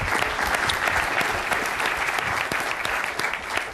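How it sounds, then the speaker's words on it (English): A crowd gives sustained, dense applause for a third-place audience award winner at an awards session, steady and fairly loud throughout without a break. "Big round of applause with 20 votes."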